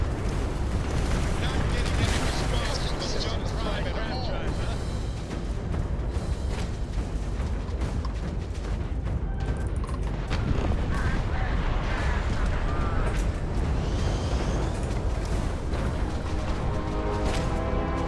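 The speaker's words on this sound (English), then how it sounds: "someone over here is shooting at me" Gunfire aimed at the player in Starfield: a dense, unbroken barrage of shots and heavy blasts roars loudly throughout, with a voice talking over the din.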